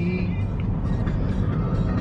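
Steady low road rumble and engine drone fill the cabin of a moving car, heard from the passenger seat, continuous and fairly loud with no distinct events.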